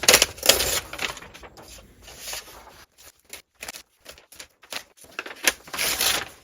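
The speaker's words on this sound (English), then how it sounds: "I'm going to tear out 8 pages" Pages of a book are torn out one after another, giving sharp ripping and crinkling bursts with short quiet gaps between, close and fairly loud, with no talking.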